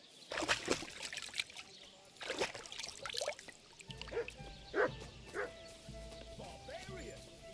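Dog barking in the video game Kingdom Come: Deliverance 2, a few short yips and barks scattered through the clip amid game ambience and someone talking.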